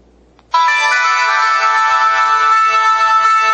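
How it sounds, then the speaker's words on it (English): A BlackBerry Storm 2 phone ringtone plays loudly through its speaker, a bright sustained melodic tone starting abruptly after a moment of quiet and continuing steadily. "Ringtones, which is basically my music."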